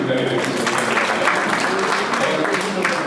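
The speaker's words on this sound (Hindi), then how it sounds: "मैं चाहता हूँ बस ताली बजा दीजिए।" Audience applause at a Hindi award and memorial ceremony, a steady, dense wash of clapping held at full strength throughout, with a voice speaking briefly over it.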